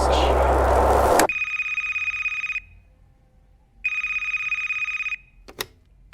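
A telephone beside a bed rings in two long electronic bursts separated by a pause, loud and close, following a brief stretch of broad noise at the start.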